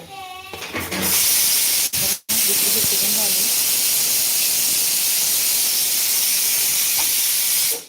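Chapati puffing on a gas flame gives a steady, loud steam-like hiss that runs almost the whole time, broken by a couple of sharp clicks near the start.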